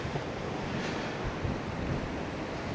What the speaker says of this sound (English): The waves crashing against it,